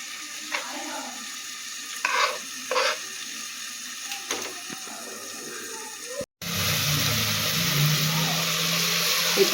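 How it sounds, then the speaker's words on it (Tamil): Onion and tomato sautéing in a pan for mushroom biryani: a few quiet scrapes and clinks, then after a brief cut a loud, steady close-up sizzle for the remaining seconds. "வெங்காயம் தக்காளி நல்லா வதங்கிடுச்சு."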